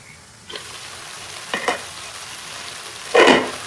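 Shrimp cooking in a pan with spice mixture, a faint steady sizzle broken by a few scraping stirs and a louder burst of frying near the end, close, no talk.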